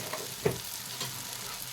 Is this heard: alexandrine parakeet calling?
no